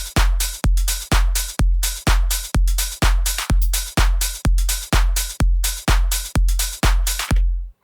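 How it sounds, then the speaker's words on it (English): A basic tech house drum groove built in Ableton thumps along with a steady four-on-the-floor kick and crisp hats and percussion above it, loud and evenly spaced, ending abruptly. "we got a basic tech house groove here"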